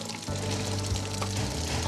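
Freshly washed caviar eggs pour out of their rinse water at the Caviar de Neuvic facility, a steady close rush of liquid after a brief quiet start, with no voices.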